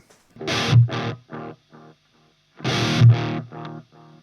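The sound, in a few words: guitar delay echoes run through amp front end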